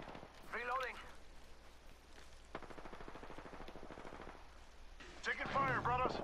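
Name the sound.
gunfire in a video game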